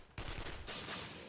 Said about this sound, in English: Is that gunfire here? The sound rings out continuously